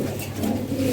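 Pigeons kept for delivery coo steadily and close by, a continuous low, throaty murmur of overlapping calls with no talking.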